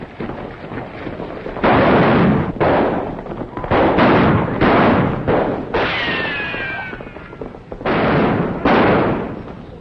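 Gunshots from a 1938 western film ring out in a rapid series of loud, close blasts, several fired in quick succession with short gaps between them.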